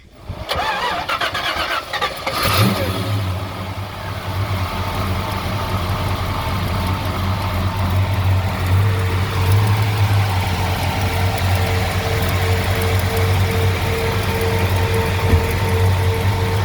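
A 1969 Chevrolet Nova with a 350 V8 cranks briefly and catches with a loud roar, then settles into a steady, throaty idle that rumbles close by.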